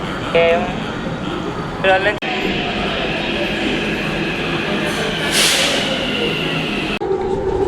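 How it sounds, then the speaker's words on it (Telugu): A metro train rumbles steadily along the track, a constant loud drone with a brief hiss, while people talk over the noise. "మేమైతే మెట్రో ఎక్కి స్టార్ట్ అయిపోయాం"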